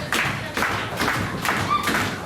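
Wrestling crowd at a W3L showdown clapping and cheering in a dense, steady wash of applause with recurring thumps, filling the whole short stretch without talk.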